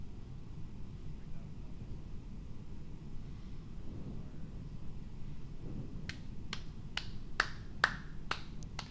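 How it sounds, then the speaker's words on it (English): A streamer claps by hand, about seven sharp close claps in an uneven run near the end, over a low steady rumble of a flight simulator. "That's me clapping."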